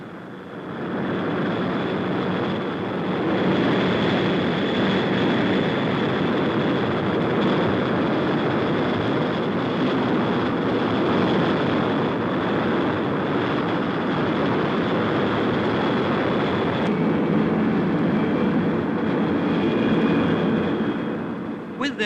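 Avro Vulcan bomber aircraft engines roaring in a loud continuous drone with a steady high whine, sustained and close throughout.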